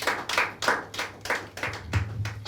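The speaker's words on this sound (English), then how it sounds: "Give them a round of applause." A handful of people clap in a small audience at an online pitch event, a sparse uneven round of separate hand claps with a faint hum underneath.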